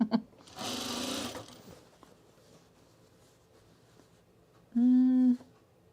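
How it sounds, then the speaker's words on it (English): Sewing machine stitching a small trouser opening shut with gold thread, one steady whirring run early on. A separate tonal hum follows a few seconds later. "we're gonna sew this little opening shut. I'm gonna use gold thread."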